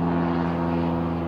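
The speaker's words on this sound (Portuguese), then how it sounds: "Esperar passar o avião aqui." A propeller airplane drones steadily overhead, a loud, continuous engine hum with strong low tones that holds throughout without any talk.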